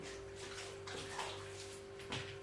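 Water splashes and rushes softly as cucumbers are washed by hand for pickling in a home kitchen, with a few louder sloshes and a faint steady hum beneath.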